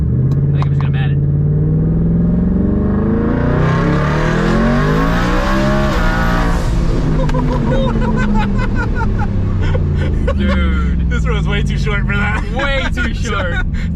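A 1716 hp four-wheel-drive Ford F150 race truck roars up through the revs at full throttle, engine pitch sweeping and climbing with gear shifts, loud and close from inside the cab, then braking hard.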